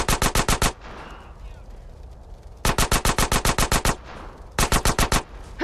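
Gunfire in the GTA San Andreas video game: three loud, rapid bursts of automatic shots, each about eight evenly spaced cracks, with quieter stretches of background din between them.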